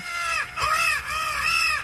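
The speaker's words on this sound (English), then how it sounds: "a turntable sits on the floor, spinning a 45 RPM record of crows cawing" Crows cawing, played from a 45 RPM record on a turntable in an art gallery: three harsh, nasal caws in a row, fairly close and clear, with no talk.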